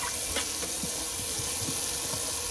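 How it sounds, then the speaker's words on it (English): Tap water runs into a bathroom sink for a quick rinse during a wet shave, a steady broadband splashing with small irregular drips and knocks, moderately close and alone without talk. "let me just do a quick little rinse of the sink"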